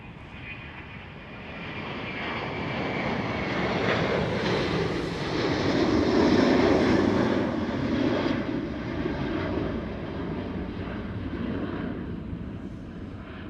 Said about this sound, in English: There was the Airbus A330 of Delta Airlines taking off.